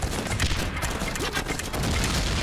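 Dense gunfire crackles in the video game Guns Up!, a continuous loud volley of overlapping shots and small booms throughout.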